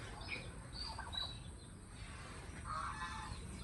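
Faint calls from turkeys, a few warbling gobbles and chirps scattered over quiet background noise, somewhat distant.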